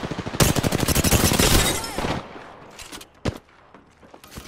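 Gunfire in the Apex Legends video game: a long rapid automatic burst lasting about two seconds, then a few scattered single shots, close and loud.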